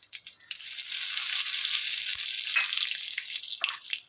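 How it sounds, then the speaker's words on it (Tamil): Cumin seeds sizzle steadily in hot oil, tempered at the start of a drumstick-leaf and egg stir-fry. The close, crackling hiss swells after the first half-second and continues with small pops and stirring rattles, with no talking. "சீரகம் தாளிச்சிடலாம்"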